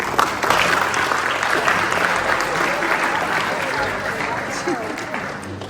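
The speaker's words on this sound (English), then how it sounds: "Stand up and give your parents a round of applause for what they did." A football banquet audience gives parents a loud, sustained round of applause filling the room, with voices and cheers mixed in and the clapping tapering slightly toward the end.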